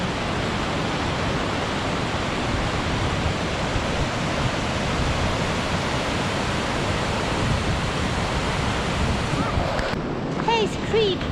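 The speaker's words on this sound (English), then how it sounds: "Hayes Creek Falls." Hayes Creek Falls, a roadside waterfall right off a Colorado highway, gives a steady, loud, broadband rush of falling water throughout, with faint birdsong near the end.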